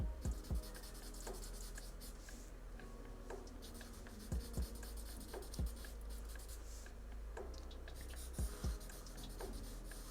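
A marker or pencil drawing a tiger cub on paper, with steady soft scratchy strokes and occasional taps as the tip lifts and lands, close and quiet with no talking.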